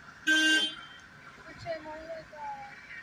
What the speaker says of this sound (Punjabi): ਹਾਰਨ ਮਾਰ